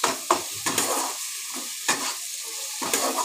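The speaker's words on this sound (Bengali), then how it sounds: "চালটা দিয়ে আমি এবার ভালোভাবে মশলার সাথে মিশিয়ে একদম কষিয়ে নেব।" Rice stir-fried with spices in a pan as part of a rice-and-pointed-gourd dish, with a continuous sizzle broken by repeated scraping strokes of a spatula, close and fairly loud.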